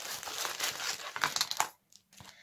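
Plastic packaging from an AliExpress kit crinkles and rustles close up as it is unwrapped, a busy crackling burst lasting over a second, then a brief pause and a few faint rustles.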